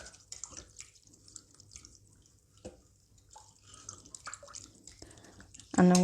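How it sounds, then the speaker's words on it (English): Beef is stirred in a thick sauce, making soft wet squelches and small clicks that are faint and close. A louder voice breaks in at the very end. "Give it a stir."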